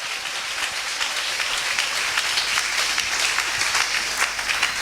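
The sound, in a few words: church congregation applauding the word of God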